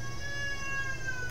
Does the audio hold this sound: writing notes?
no